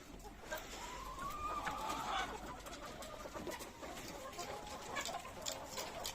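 Chickens cluck softly inside a coop on a farm in Antalya in the early evening, faint and close, with low murmuring calls over a quiet background.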